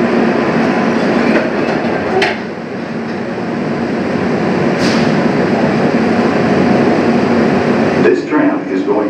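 An airport tram at McCarran International Airport rumbles steadily along its track from the D gates to Terminal 1, a continuous low roar with faint rattles and brief higher squeaks, while an announcement voice plays over it.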